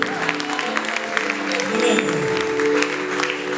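A church congregation breaks into steady, sustained applause that fills the room, close and dense throughout with some voices mixed in.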